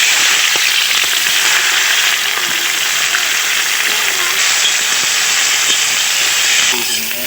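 Chopped onions hit hot mustard oil that already holds dried red chillies, giving a loud, steady, close sizzling hiss that runs unbroken for several seconds.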